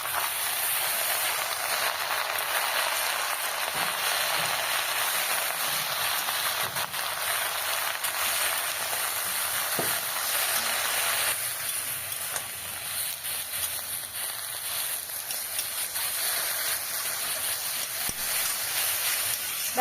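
Chopped mustard greens stirred dry in a hot pan to cook off their released water give a steady, loud, even hiss throughout, with faint scraping from the stirring and no talk.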